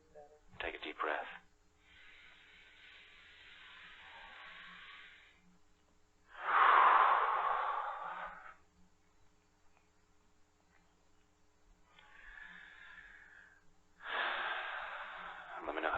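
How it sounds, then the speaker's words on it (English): Deep breaths drawn in and let out during a guided tapping session, several long airy breaths close to the microphone, separated by quiet pauses, with no talking over them. "Take a deep breath."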